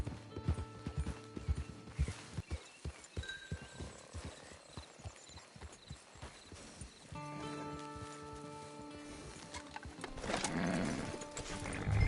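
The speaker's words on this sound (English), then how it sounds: "Get your horse." Horse hooves clip-clop in Red Dead Redemption 2, a steady string of close, sharp hoof strikes at a walking pace, followed by a brief neigh and a busier passage of galloping and game sounds toward the end.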